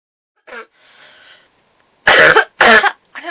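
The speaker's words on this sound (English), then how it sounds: "I don't know where this awful cough's come from" Woman coughing nearby: a short throaty catch and a soft rasp, then two loud harsh coughs in quick succession.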